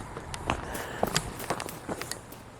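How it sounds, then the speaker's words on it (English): Several irregular footsteps crunch outdoors on uneven ground at moderate distance, scattered across a steady background with no talking. "Thought I heard footsteps."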